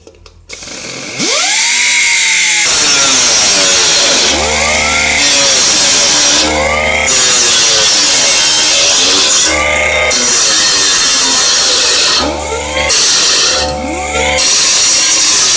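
Power saw cutting through wood while building a window-mounted heat sink for a coffee can wood stove, a loud continuous whine with repeated bursts as the blade bites in and eases off, no talking.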